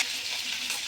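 Whole spices, cinnamon, cloves and fennel seeds, fry in hot oil for an egg curry, giving a steady, close crackling sizzle with faint stirring and no voices.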